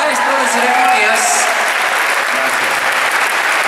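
Loud, dense applause from a crowd at a birthday celebration for a master of ceremonies, sustained and close throughout, with cheering voices mixed into the clapping.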